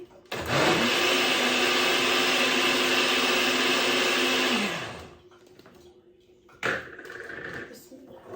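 A blender whirs loudly for about five seconds, blending a mixed fruit milkshake, then winds down, and a second short burst starts near the end. Someone talks around the motor noise.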